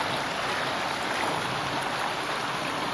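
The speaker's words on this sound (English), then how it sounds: "cast it into these rapids right here" River rapids on Bear Creek rush in a steady, dense hiss of flowing water, loud and continuous, with no talk over it.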